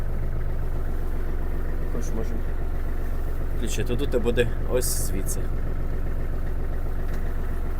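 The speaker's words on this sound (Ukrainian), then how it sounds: "дамо трактору прогрітись трохи" A Kubota GL-29 mini tractor's engine idles while warming up, a steady low hum that continues throughout as someone talks over it at close range.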